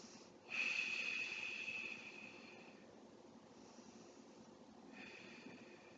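Close, airy breathing while the chest muscle is rolled out on a foam roller: a strong drawn breath, a slow fading exhale, then a quieter second breath, with no voice.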